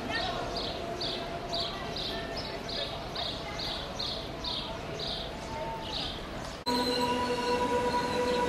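A long train passing through Yverdon station by Lake Neuchâtel in Switzerland, its wheels giving a steady run of rhythmic high squeals under continuous rumbling rail noise, close and loud, shifting to a harsher steady tone near the end.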